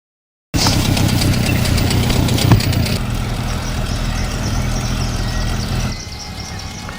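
A boat engine runs steadily in cold, foggy weather, a loud continuous low rumble that starts abruptly and drones on without breaks, easing slightly toward the end.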